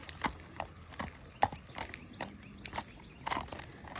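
Hooves of a four-year-old Friesian sport horse gelding clip-clop at a steady walking rhythm, moderately near, with scattered irregular thuds and faint background noise.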